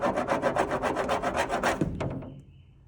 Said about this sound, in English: You can scrape this